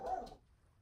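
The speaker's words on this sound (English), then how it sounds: "I have loud puppies this morning." Loud puppies let out a single short bark, close and fairly clear, which fades quickly into quiet room noise.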